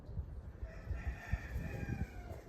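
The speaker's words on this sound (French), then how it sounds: "le coq chante" A rooster crows at a moderate distance, set against a steady outdoor background with soft low rumbling; no one speaks.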